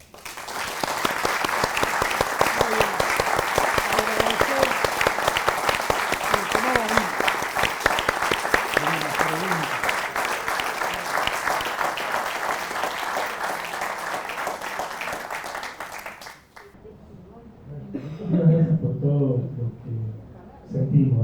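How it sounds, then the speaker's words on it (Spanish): An audience gives loud, sustained applause honoring the soldiers who died in the Malvinas war at a commemorative talk. The dense clapping fills most of the stretch, then cuts off abruptly as a single voice begins speaking. "les pido un fuerte aplauso."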